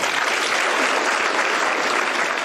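A crowd claps steadily and loudly throughout at the launch of an affordable housing project in Machakos, a dense, even applause with no voices standing out.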